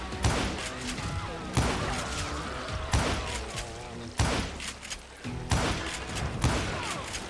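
Repeated gunfire bursts in the Wild West shooter Call of Juarez: Gunslinger, loud sharp reports arriving in clusters roughly every one to two seconds over a busy game backdrop.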